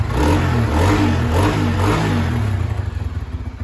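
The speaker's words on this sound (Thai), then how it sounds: "เดี๋ยวต้องวอร์มเครื่องสักหน่อยเร่งเครื่องสักหน่อย" A Honda Sonic 125 motorcycle engine warms up from cold, idling loudly and steadily close by, with a few revs, then settles into a rougher, pulsing idle toward the end.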